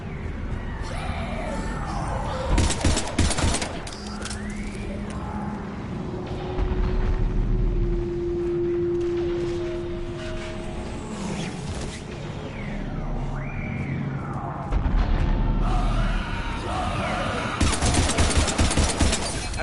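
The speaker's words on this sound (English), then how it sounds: "Shoot him!" Gunfire in the video game Mass Effect 3 comes as dense bursts of automatic shots and blasts amid a busy battle mix with a low rumbling score, and game voices call out through the clip.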